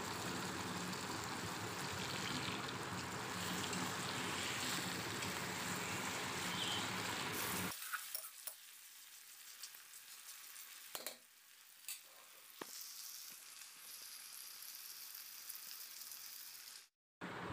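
Tomatoes and onions fry in a pan with goat fat for a green jackfruit curry: a loud, dense sizzle for about eight seconds, then a quieter crackle broken by a few sharp stirring scrapes.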